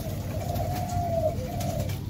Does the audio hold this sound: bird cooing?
yes